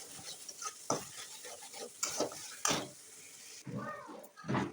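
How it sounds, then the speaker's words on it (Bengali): Spice paste with ginger and garlic being stirred and sautéed in a pan, with soft scraping strokes over a quiet sizzle, fairly faint, with muffled voices in the background. "মশলাটি সুন্দর করে কষে নিব ভালোভাবে।"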